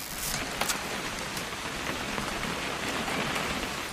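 Steady video game rainfall pattering on surfaces in What Remains of Edith Finch, a dense continuous hiss with occasional sharper drops, no voices.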